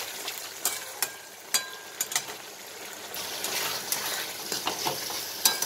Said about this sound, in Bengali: সসটা দিয়ে একটু ভাজা ভাজা করে নিলাম।